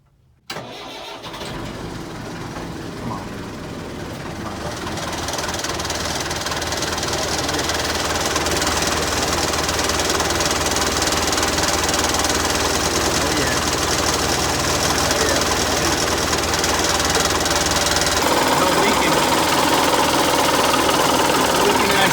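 Caterpillar 416 backhoe diesel engine cranking and catching, then idling with a loud, steady, close clatter that keeps running to the end.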